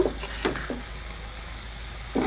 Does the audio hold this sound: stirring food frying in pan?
yes